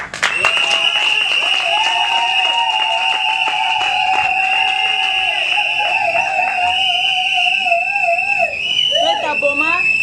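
Wedding audience at a civil ceremony in Boma, Kongo Central, applauding with cheers and whistles, loud and sustained, mixed with strong tonal music or singing that carries over the clapping.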